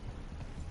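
Horse hooves clip-clopping in a video game, a brief rapid run of soft, close thuds over low background rumble.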